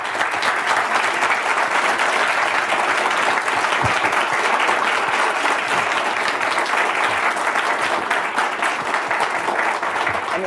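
Sustained audience applause for Jack Ma at a conversation event, a steady, full roar of many hands clapping together without a break, loud and even throughout with no voices over it.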